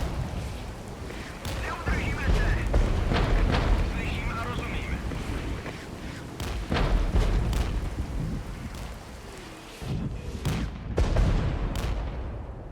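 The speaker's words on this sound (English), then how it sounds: "I'm really hoping that artillery barrage doesn't end up killing friendlies" Artillery barrage in the Regiments war game, a dense run of rumbling explosions and sharp cracks with continuous low roar, some blasts near and loud, others more distant.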